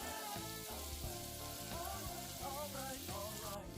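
Onions sweat in a pan for sweet onion chili beef, giving a steady, dense sizzle and crackle that stays close and even throughout, with no talking.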